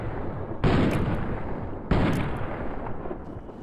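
Gunfire in Fallout: New Vegas on hardcore mode rings out as two loud, sharp blasts about a second and a half apart, each trailing off in a booming echo, with no voices.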